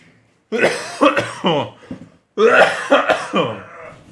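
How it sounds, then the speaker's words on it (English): Two bursts of harsh, repeated coughing, each a rapid run of several coughs, close and loud, with a short silent gap between them. "Why am I coughing like a 90-year-old?"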